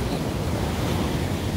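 Ocean surf washes steadily onto the shore under strong wind buffeting the microphone, a loud, continuous roar with no break.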